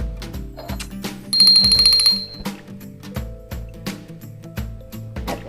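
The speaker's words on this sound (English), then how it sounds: "I have this little lady bell here and another one here." A small vintage lady figurine bell rings out in one bright, high, sustained tone lasting about a second, surrounded by lighter clinks and handling knocks.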